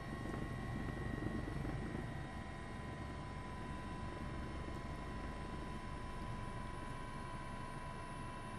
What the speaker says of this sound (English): Our helicopter right over the top of them